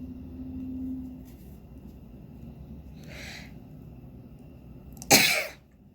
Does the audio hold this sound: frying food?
no